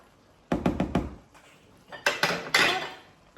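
A metal lid set onto a pot of simmering ratatouille: a quick burst of clattering knocks, then a few louder clanks and a rattle as it settles, close by with no talk.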